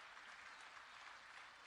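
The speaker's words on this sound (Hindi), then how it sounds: "ये देखो महिलाएं ताली बजा रही हैं।" A crowd of women at a political rally applauds, producing a continuous, even wash of many hands clapping, faint and far off with no pauses.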